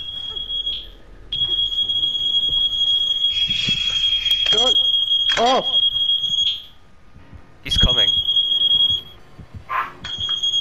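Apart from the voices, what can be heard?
alarm going off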